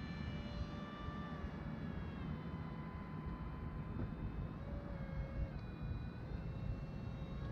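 An F-14 Tomcat model aircraft flies with more throttle, giving a steady whining engine drone with sliding pitch shifts, continuous and moderately loud over outdoor background noise.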